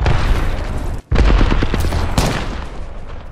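Loud, close bursts of rapid gunfire in Apex Legends, a continuous volley broken by a brief gap before firing resumes and then gradually trails off.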